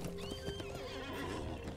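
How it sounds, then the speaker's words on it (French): A horse whinnies in the Lord of the Rings Online video game, the call mixed with clip-clop hooves and game ambience, fairly faint and with no talk over it. "On a qu'à prendre le dada."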